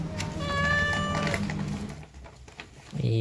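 A toy cat gives a high, tonal electronic meow, followed by a quieter stretch with faint handling noise and a brief tone at the end.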